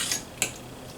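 Knife and fork cutting steak on a plate beside fried eggs, two quick bright metallic scrapes and clinks against the plate, close and alone.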